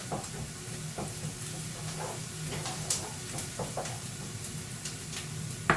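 Onions softening gently in a pan for a spinach and minced-meat borek filling, giving a soft, steady sizzle with faint stirring clicks and scrapes throughout, close and low in level, with no talking.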